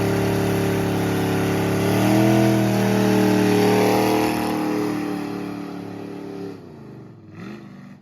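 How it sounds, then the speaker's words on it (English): A 1979 Camaro Z/28 pulls away from a high school, its engine note climbing through a loud rev then receding and dropping as the car drives off, with a brief final blip. "This is my 1979 Camaro, and this is me leaving my high school"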